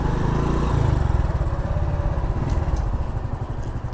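A motorcycle engine idles steadily close by, a low, even chugging that runs the whole time with no voices over it, just before the rider leaves the bike parked at a delivery stop.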